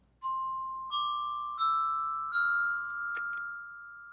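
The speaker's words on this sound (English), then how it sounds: "did you see what I was playing on my bells?" Handbells from a children's music lesson ring out in a series of bright, clear strikes, about four tones stepping in sequence with long ringing decays, then a quick final double tap, close and without talk.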